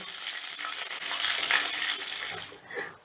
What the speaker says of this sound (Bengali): এবার বিনসটাও গাজরের সঙ্গে একটু ভাজা ভাজা করে নেব